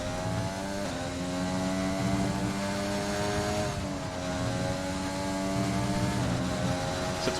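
Race car engines in a PC racing game at the Hungaroring, a steady high-pitched whine that rises and falls through gear changes, one car passing another, loud and continuous with no talk.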